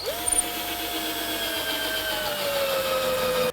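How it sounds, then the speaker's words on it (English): Power driver driving screws into timber while building a child's mud kitchen, a steady close whine that holds for several seconds. "So I'm going to screw in 2 screws in there, and then I'll pop a couple through the back as well"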